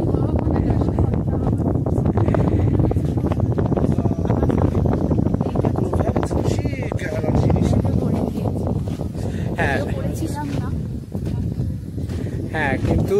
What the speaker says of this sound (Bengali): হাওয়াটা খুবই জোরে দিচ্ছে, ভয় পাওয়ার মতো।